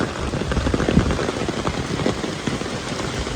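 Sudden morning monsoon rain falls in Dabhole village in the Konkan, a dense, even hiss of drops pattering on surfaces, close and steady throughout with no voices.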